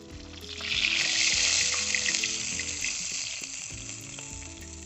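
Tilapia fish pieces frying in oil in a pan in a village kitchen, a steady broad sizzle holding close and loud throughout, with a music bed running underneath and no talk.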